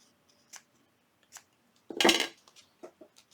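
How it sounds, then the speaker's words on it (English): Scissors snip ribbon strings on a handmade junk journal envelope, several short crisp metallic snips spaced apart with one longer, louder cut near the middle, close and quiet with no talk. "then cut your strings"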